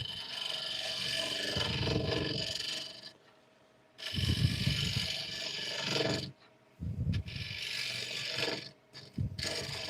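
A tool scrapes the bottom of a wooden piece turning on a lathe, giving rough rasping bursts of a few seconds each, broken by short pauses and ending in choppier strokes.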